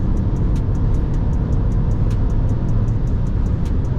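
A Mini Countryman SUV on the move, a steady low engine and road drone from inside the cabin with a faint regular ticking above it, unbroken for the whole stretch.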